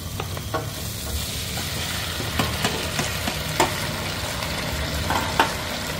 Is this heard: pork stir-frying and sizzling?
yes